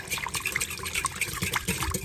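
Whisk beating a steak taco marinade seasoned with black pepper in a bowl, a brisk run of wet, sloshing liquid clicks up close with no talking.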